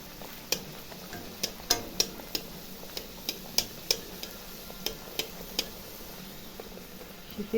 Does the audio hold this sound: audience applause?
no